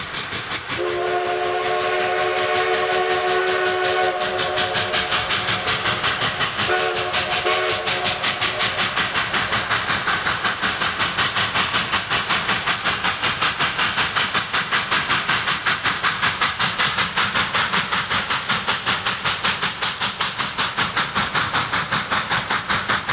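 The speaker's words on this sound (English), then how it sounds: "we catch the Chama high noon train leaving the Narrows and preparing to arrive at Lobato" The Cumbres and Toltec Chama high noon steam train passes near Lake Lobato, its whistle blowing at the start, then a steady loud rumble with a continuous rhythmic chuffing and clatter that lasts throughout.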